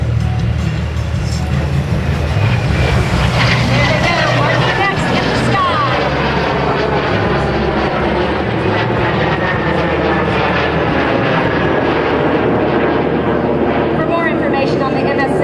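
MS760 jet aircraft from Team MS760 roaring past in formation at the Boston Portsmouth Airshow, a loud, continuous jet rush that sweeps and shifts in pitch, with an announcer talking over it throughout.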